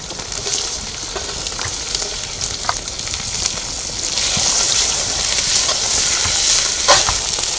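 Chopped spring onion whites fry in a pan for a Kathiyawadi green olo, a dense, loud sizzle with scattered clicks and pops as they are stirred, growing slightly fuller partway through.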